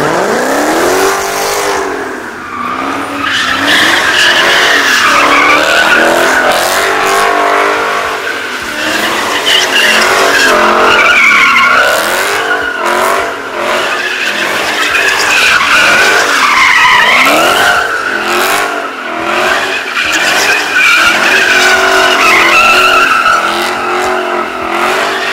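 Tires squeal and skid continuously as a car drifts with heavy smoke at a car meet, its engine roaring and revving loudly throughout, with no pauses.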